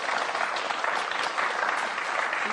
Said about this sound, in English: So please give her a round of applause for that.